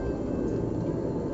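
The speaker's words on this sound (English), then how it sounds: "if you just look out, you can hear a plane or a helicopter outside." Steady low drone of a plane or helicopter flying overhead outside a cave in Laos, heard from inside as a constant muffled rumble with no talking.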